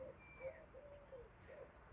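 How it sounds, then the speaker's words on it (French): Turtle doves coo faintly outdoors in soft, repeated low calls, several in quick succession over a quiet background. "J'adore entendre les tourterelles roucouler"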